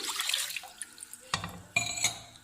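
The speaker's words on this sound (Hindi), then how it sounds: "एक कढ़ाई में 1 गिलास हम पानी का डाल देंगे" Water is poured from a glass into a wok (kadhai) while making a rose and fenugreek hair oil, with a short splashing trickle followed by two brief louder gushes.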